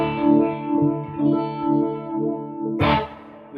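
An electric guitar plays through a Vibe Machine pedal, its swirling modulation making sustained notes pulse and waver, ending with a sharp, brighter strum.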